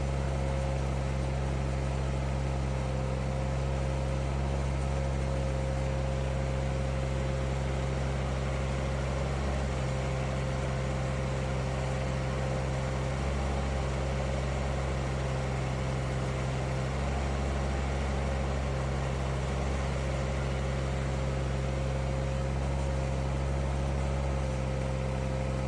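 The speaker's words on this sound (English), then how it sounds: "I've got the engine at full RPM." A mini excavator engine runs steadily at full RPM with the boom out front and the blade down, a constant loud drone with a strong low hum and a steady tonal whine, no talk.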